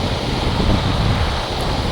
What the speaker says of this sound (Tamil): காற்று அடிக்க நல்லா தான் இருக்கு